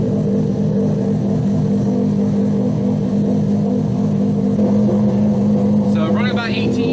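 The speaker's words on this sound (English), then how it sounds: "Sitting there idling right now." A Toyota Supra engine with a fuel pump wiring fault idles steadily with a loud, constant low rumble, and a brief voice is heard near the end.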